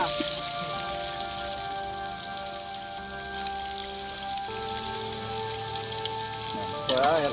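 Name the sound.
onions frying in a pan for chicken biryani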